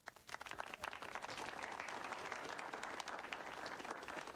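Hands clap in a fast, continuous patter, like a small burst of applause, fairly close and steady after a brief start, with no talking over it.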